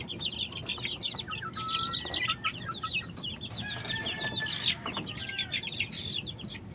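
Backyard gamefowl chickens cluck and chirp in soft, busy bursts while being handled for banding. The calls are close and moderately quiet over faint background noise.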